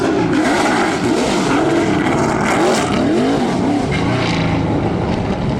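NASCAR race cars spin around at the Goodwood turnaround, engines roaring loud and continuous with rising and falling revs close by, no speech over the noise.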